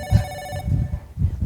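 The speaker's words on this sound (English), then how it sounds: "It's a phone." A telephone rings with a bright, steady electronic tone for about half a second, then a low thumping texture carries on beneath it, fairly loud and close, with no talk over it.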